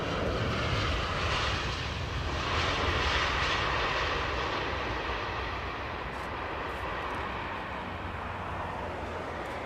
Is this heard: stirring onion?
no